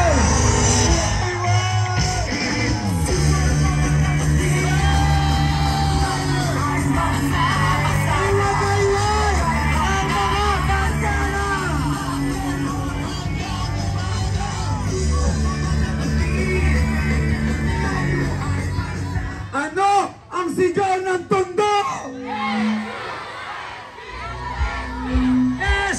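A large crowd at a charity event in Manila shouts and cheers loudly and continuously, a dense roar of voices with whoops and yells that fades near the end, where a few individual voices stand out.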